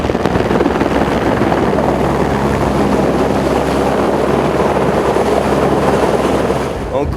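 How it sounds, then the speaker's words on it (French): Helicopter hovering over a chairlift construction site in the mountains while delivering concrete for the pylon forms, a loud continuous rotor and turbine roar with wind buffeting that holds steady throughout. "l'hélico est le moyen le plus rapide pour apporter et couler celui-ci dans les coffrages de soutènement des tubes d'acier"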